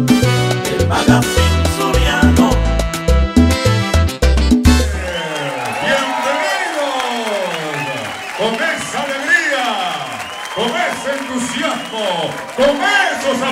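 Audience applause on the Sabor 106 radio show at the opening of the 2011 gaita season, a steady clapping wash following a burst of music and running under someone talking.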